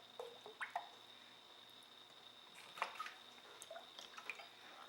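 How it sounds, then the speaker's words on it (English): A cup of oil pours into a bowl of wet ingredients for zucchini bread, giving soft, faint drips and liquid plops under a steady quiet hiss, with no voices. "So I do 1 cup of oil."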